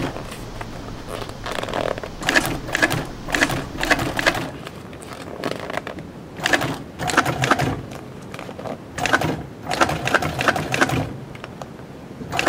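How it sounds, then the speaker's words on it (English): A double needle sewing machine stitches a seam in leather for custom upholstery, running in repeated rapid bursts of mechanical clatter separated by short pauses, close and fairly loud. "Using a double needle machine, this seam is created by taking two pieces of leather joined with a blind seam"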